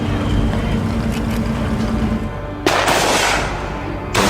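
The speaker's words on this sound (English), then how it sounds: "As soon as they leave the gates, they come under fire." A burst of rapid gunfire rattles over a loud rumbling background in a Korean War documentary, with sharp cracks standing out briefly at the end and no talk.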